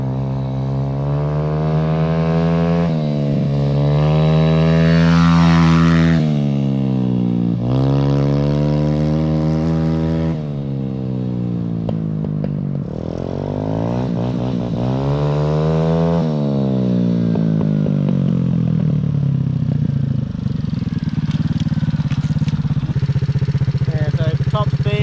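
A 125cc engine swapped into a CF50 pit bike roars through a top speed run, its loud engine note climbing repeatedly through the revs with brief drops at gear changes, running continuously and close by.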